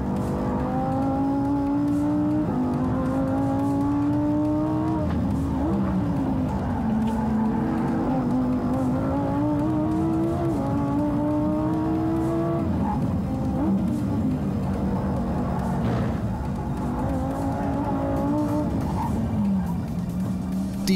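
A Lamborghini Huracán STO engine revs hard through a fast lap, loud and close, its pitch climbing and dropping repeatedly through gear changes and corners, with faint tyre noise and no talking.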